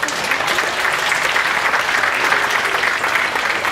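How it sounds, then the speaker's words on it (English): An audience applauds at the 2018 John C Fremont Days event, a loud and sustained wash of clapping that holds steady throughout, with crowd noise mixed in. "Give him a big round of applause."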